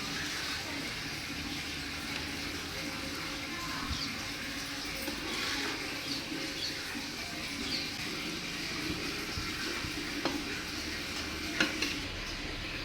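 Egg fry with chopped coriander and curry leaves being stirred in a hot pan: a steady close sizzle with soft scraping strokes and a few sharper clinks near the end, and no voices.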